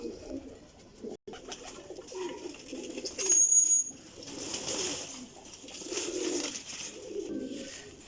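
Soft, low cooing of old-bloodline black pigeons murmurs on and off in a quiet space, with faint rustling and a brief thin chirp partway through.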